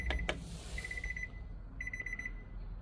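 Short electronic beeps from a Kenwood aftermarket car stereo's key presses, two quick tones then rapid runs of repeated high beeps, clear against a quiet hum.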